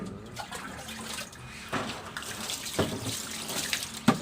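Water poured over a screen printing film to rinse it, a steady running splash with a few sharper sloshes and drips, close and fairly quiet, with no voices.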